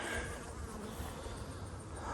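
Honey bees buzzing around hives at a cow pasture apiary, a dense continuous hum of many insects close by, steady and unbroken with no voices.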